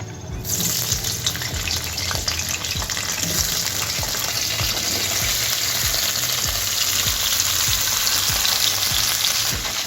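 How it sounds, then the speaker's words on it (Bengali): Diced cauliflower pieces fry in hot oil, making a loud, continuous crackling sizzle up close. Faint rhythmic stirring taps come at regular short intervals throughout, and no one speaks. "আর এই ফুলকপিটাকেও আমি ভেজে নেব।"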